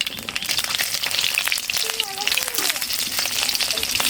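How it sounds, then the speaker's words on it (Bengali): Nigella seeds and green chillies frying in hot oil for a fish curry, a loud, dense, continuous close sizzle with a brief voice murmuring over it. "তেলে ফোড়নে দিয়ে দেবো কালো জিরে আর 4টে কাঁচা লঙ্কা"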